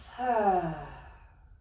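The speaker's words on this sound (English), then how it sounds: "Maybe it's a big old exhale through the mouth." A single long exhale through the mouth during a yoga flow, a soft breathy sigh that swells and fades over about a second in a quiet room.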